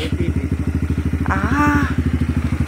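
Big bike motorcycle engine idling close by with a fast, even thumping putter, joined briefly by a short whining or squealing tone, with no talk over it.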